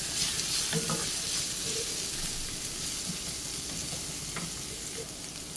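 Chilli flakes are stirred into an egg mixture frying in a pan, a steady loud sizzle with occasional soft scrapes and knocks of the spoon.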